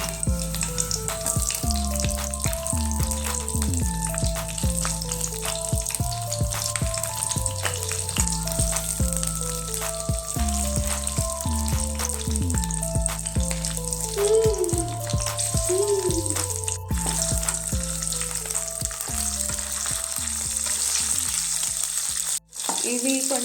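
Green chilies and cumin seeds frying in a pan on the stove, a steady loud sizzle with occasional stirring, over a continuous background of music-like tonal sounds.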